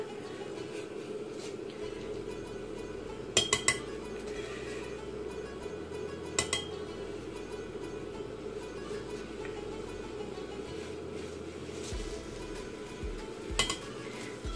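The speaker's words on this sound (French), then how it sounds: "Vous voyez, l'eau commence à bouillir." Water comes to a boil with green tea in a pot for mint tea, giving a steady, soft bubbling hiss broken by a few faint metallic clinks.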